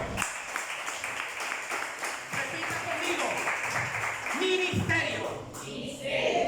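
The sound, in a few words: church congregation applause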